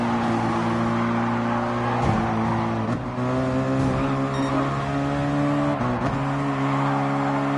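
Race car engines in Gran Turismo Sport on PS4 Pro, a loud sustained engine drone with steady tonal whine and brief pitch dips at gear shifts, without voices.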